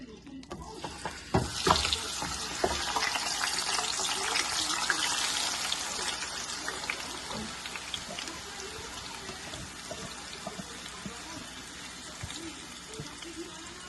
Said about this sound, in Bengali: মাংসে এই যে বাটিটা ধুয়ে যে পরিমাণে পানি দিলাম